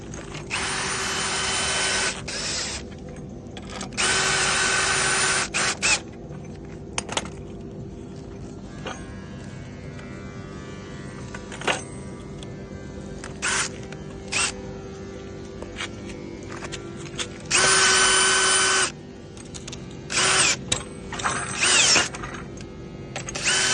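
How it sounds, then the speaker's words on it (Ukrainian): A power screwdriver drives self-tapping screws into the frame of a gazebo. It sounds in several short, loud whirring bursts of a second or two each, with clicks and handling noise in the quieter gaps between them. "вставляємо наші саморізи і скручуємо, коли ми закинемо обв'язку і затягуємо саморізи"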